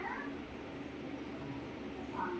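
A voice imitates a cat's meow twice, once at the start and again near the end, with faint room noise between.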